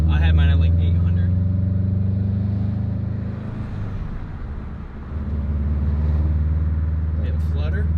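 Subaru engine with a newly installed Invidia downpipe idling very low: steady, deep rumbling idle close by, dipping briefly in the middle, with voices talking over it.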